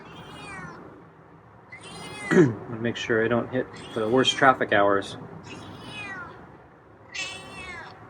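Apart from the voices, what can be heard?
cat meowing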